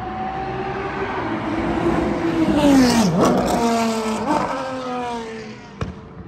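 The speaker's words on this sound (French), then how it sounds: "Maserati qui arrive" A Maserati race car arrives at the 24 Hours of Spa endurance race, its engine note rising and falling with clear Doppler sweeps as it passes close by, loud and alone on the circuit.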